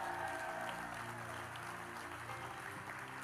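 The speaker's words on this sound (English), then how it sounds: "Give Jesus a great big hand clap on the 25th anniversary" A church congregation applauds at a 25th anniversary Sunday service, a continuous dense clapping wash with a low hum of music or voices underneath.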